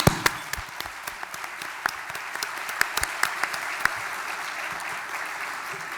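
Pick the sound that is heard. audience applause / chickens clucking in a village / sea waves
audience applause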